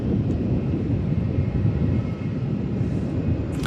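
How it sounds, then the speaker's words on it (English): Jetstar 787 pushing back at Melbourne Airport, heard as a steady low engine and ground rumble that stays constant and fairly loud throughout the brief stretch. "Jetstar 787 pushing back."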